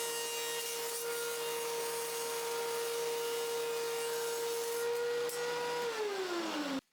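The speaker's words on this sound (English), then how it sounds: "Using my bandsaw to cut 45-degree miters" A bandsaw cuts 45-degree miters in wood strips. A steady, loud motor hum runs with a broad rushing cut noise, then the blade audibly spins down and the sound cuts off at the end.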